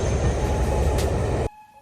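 A steam train rumbles loudly and steadily close by, a broadband roar with a brief high hiss, then cutting off abruptly, in Scotland.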